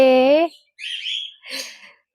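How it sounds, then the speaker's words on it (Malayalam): A voice speaks briefly, then two bursts of shrill, high chirping follow close by, pet birds calling noisily in quick succession. "എൻ്റെ ശബ്ദം കേട്ടിട്ട് കിളികൾ അവിടെ കിടന്നിട്ട് ഒച്ചപ്പാടും"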